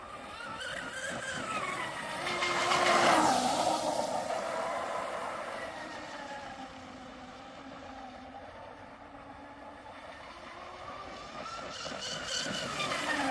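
A Proboat Mystic 29 RC catamaran runs on water, its small motor whining at a distance and swelling as it passes closer, then fading and building again, faint and continuous.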